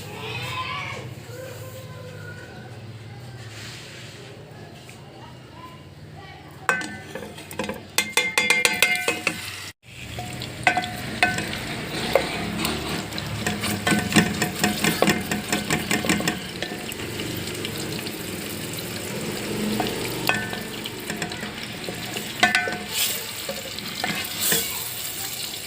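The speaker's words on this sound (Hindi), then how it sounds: "कीमा हमारा अच्छी देर फ्राई हो चुका है।" Minced meat (qeema) frying in about half a cup of hot oil for a kachnar dish, a soft steady sizzle under repeated scraping and stirring strokes, with a sharp break partway through and someone talking briefly.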